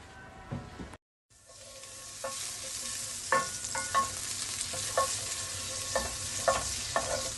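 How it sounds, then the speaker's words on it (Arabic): Two spoonfuls of butter sauté with garlic in a pan, making a continuous close sizzle with repeated light scrapes and taps of a spoon after a brief gap near the start. "على صينيه فيها معلقتين زبده بيتشوحوا، وهننزل عليها بالثوم"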